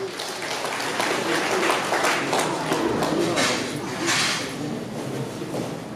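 Steady applause from an audience at a year-end award ceremony for a kidney patients' association in Incheon, dense and sustained clapping filling the room without pause.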